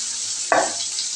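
Potatoes frying in oil, a steady sizzling hiss with one short scrape of a spoon midway, close up and alone.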